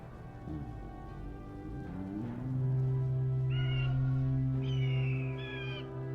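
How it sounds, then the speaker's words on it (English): Storm crows call in the Warcraft video game: harsh, piercing cries ring out over a sustained low orchestral drone, with a few repeated calls toward the end. "Let the storm crows fly once again upon the winds of war."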